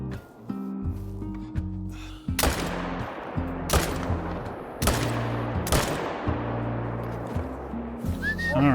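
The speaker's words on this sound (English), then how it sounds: "I definitely want to try to take a shot at this guy." Several loud rifle shots in theHunter hunting game on Silver Ridge Peaks, sharp reports about a second apart with long echoing tails, over a low layered musical drone.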